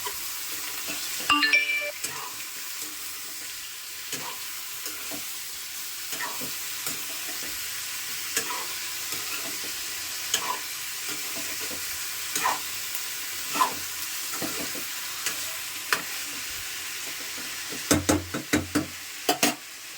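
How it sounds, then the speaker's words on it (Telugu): Cauliflower sizzles softly in a hot pan, a steady low frying hiss broken by repeated scraping stirs and a few clattering knocks of a spoon against the pan near the end, with no talking. "ఫ్లవర్ని అయితే కాసేపు వేగనిద్దాము ఒక్క టూ మినిట్స్ ఎక్కువసేపు అక్కర్లేదు"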